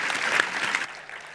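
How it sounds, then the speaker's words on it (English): An audience at the Disrupted Festival 2018 keynote session claps. Brief, dense applause that is fairly soft and steady, then cuts off abruptly partway through. "Big round of applause for our guests today."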